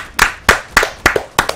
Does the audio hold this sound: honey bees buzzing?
no